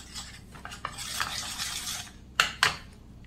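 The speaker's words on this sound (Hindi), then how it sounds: "अभी 1 चम्मच लिया है घी, इसमें डालेंगे 1 चम्मच कॉर्नफ्लोर और इसे मिक्स कर लेते हैं" A spoon stirs ghee and cornflour together in a small bowl, making soft, repeated scraping strokes followed by two sharp metallic clinks near the end.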